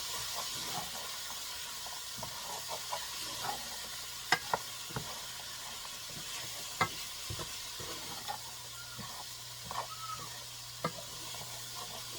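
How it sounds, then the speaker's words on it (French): Vegetables frying in a pan with turmeric and curry powder, a steady background sizzle and hiss with occasional scraping clicks of stirring, no one speaking. "Je laisse les légumes cuire un peu."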